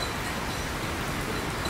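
Rain falls steadily outside as a soft, even hiss with no distinct drops or other sounds.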